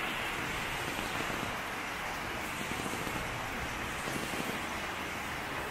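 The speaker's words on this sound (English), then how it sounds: "It just started like pouring rain." Heavy pouring rain falls outdoors on a sunny day, a dense, steady hiss of drops drumming on surfaces that continues unbroken and fairly close, with no voices.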